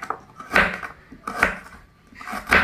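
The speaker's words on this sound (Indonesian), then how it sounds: "Di sini jahe dan kunyitnya saya akan potong terlebih dahulu sebelum saya blender" Three knife strokes chop through fresh ginger and turmeric root on a cutting board, evenly spaced about a second apart, close and moderately soft.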